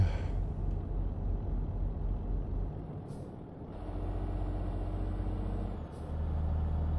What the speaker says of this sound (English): let's go ahead and jake brake